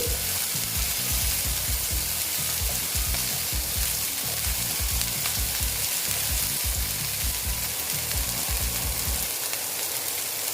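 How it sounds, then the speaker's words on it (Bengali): Chopped green chillies and peas sizzle and crackle in a hot pan while being stirred for a bread-based breakfast, a dense, steady frying hiss with scraping stir strokes, close and fairly loud with no talking. "তারপর দিয়ে দিচ্ছি কাঁচা লঙ্কা কুচি দিয়ে একটু নেড়ে চেড়ে নিচ্ছি"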